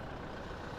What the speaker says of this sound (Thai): เอ๊นะครับนี่นี่เป็นเสียงเครื่องยนต์นะ